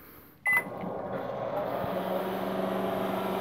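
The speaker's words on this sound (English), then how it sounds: "This microwave has an easy 20-30 second thing on, so we're going to hit it for 30 seconds" A microwave oven starts with a short sharp click and beep, then settles into a steady close hum as it runs for a 30-second cycle.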